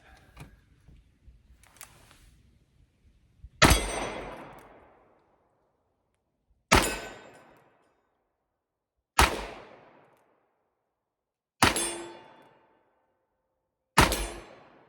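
Pietta Great Western II revolver firing light .357 loads, five single sharp reports spaced a few seconds apart, each loud and close with a short decaying echo, and quiet handling noise before the first.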